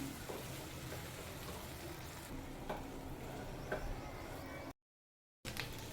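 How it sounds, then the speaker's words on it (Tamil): Okra fries with turmeric in a pan, giving a steady soft sizzle with occasional faint scrapes of stirring, then a brief drop to silence before the sizzle resumes. "மஞ்சத்தூள் சேர்த்து ஃப்ரை பண்ணும்போது அந்த வெண்டைக்காயோட கலர் மாறாமல் இருக்கும்"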